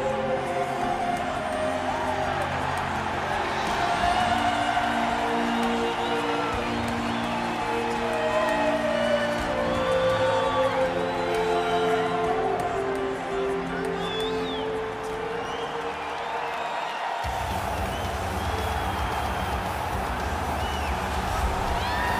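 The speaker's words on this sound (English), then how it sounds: "And as she makes this walk, you hear the crowd behind her." Arena crowd roars and cheers continuously in a UFC video game fight simulation as a strawweight fighter makes her walk to the octagon, a dense, steady wash of noise with music-like tones, shifting abruptly near the end.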